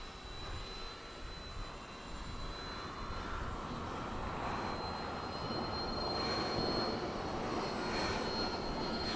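A radio-controlled Be-12 seaplane model cruising at two-thirds throttle over the Neva river gives a steady, even engine whine that stays at a constant level for the whole stretch, heard from a distance with no talk.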